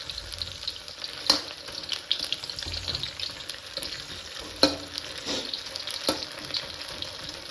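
Cauliflower pakoras fry in hot oil with a steady crackling sizzle, broken by a few sharp clinks and stirring scrapes, while running water splashes faintly nearby.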